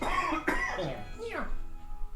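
A single harsh cough followed by rough throat clearing, close up, with some voiced sounds running through it.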